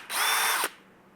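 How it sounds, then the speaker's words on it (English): A cordless Dewalt drill on a 20-volt battery spins up for about half a second of steady, loud whirring with a clear motor whine, then stops abruptly, with no voices. "Now let's throw it in that same drill we used earlier"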